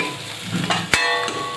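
Spices fry in a pan for a bottle gourd (dudhi) bhaji as a spoon stirs them, giving a steady low sizzle broken by a few sharp scraping strokes against the pan, close and clear with no talking.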